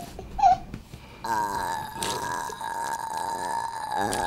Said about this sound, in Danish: Sikke en god bøvs.